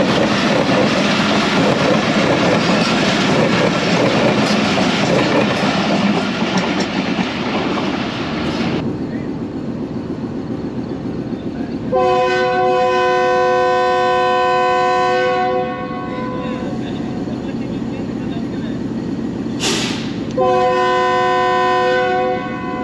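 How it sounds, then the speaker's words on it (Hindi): The Hazara Express train passing on the main line behind an HU-20 locomotive, a loud rushing roar of wheels and carriages, then long blasts of a multi-tone horn, heard close with no talk. "हज़ारा एक्सप्रेस मेन लाइन से पास हो रही है, इसको लीड कर रहा है HU-20 लोकोमोटिव।"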